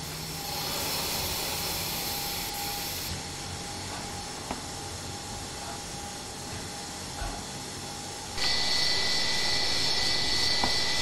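Steady MD-80 jet engine roar with a high whine in a video game, holding level for several seconds before the pitch and loudness step up sharply near the end.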